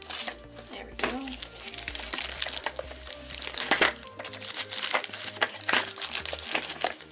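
Double-layered plastic mail packaging crinkles and crackles loudly as it is pulled open by hand, in bursts of sharp rustling with a low hum in the background.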